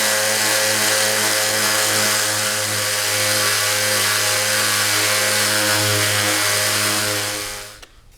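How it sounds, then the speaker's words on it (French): A multi-tool power sander with a sanding head runs loud and steady for about eight seconds with a constant buzzing hum, then switches off abruptly. "Pour poncer, on va simplement appuyer sur désenclencher la sécurité et poncer directement."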